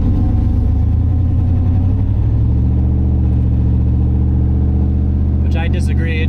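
A car engine drones steadily while cruising on the road after a fuel injector swap, a low, even hum with a faint shift in pitch partway through and a brief rattle near the end.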